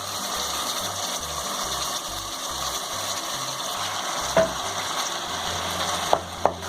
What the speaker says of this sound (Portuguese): Aí vamos mexer bem e deixar refogar por uns 15 minutos mais ou menos.